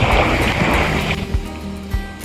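Rushing water of ocean waves surging loudly close by at a beach in Laiya, San Juan, Batangas, then easing into a softer wash with occasional splashes.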